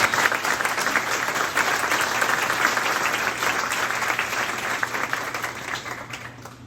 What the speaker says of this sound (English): A big round of applause for all of our retirees.